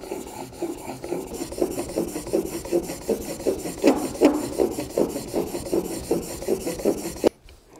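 A chisel is sharpened on a cheap water whetstone with rhythmic back-and-forth rasping strokes, close and steady, each pass a gritty scrape, ending abruptly in quiet.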